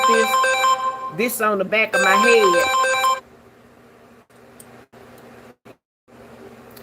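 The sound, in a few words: phone ringing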